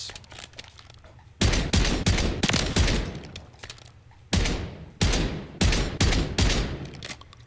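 Rapid bursts of gunfire from a gilded DLC weapon in the video game Modern Warfare III, loud and close, with short pauses between several volleys and a lingering ringing tail.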